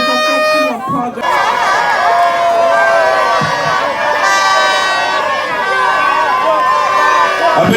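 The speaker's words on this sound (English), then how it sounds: "A bigger round of applause, ladies and gentlemen" A large outdoor crowd at a Ghanaian launch of electric buses greets the arriving Vice President with loud cheering, whoops and clapping, while an amplified voice carries over the steady roar.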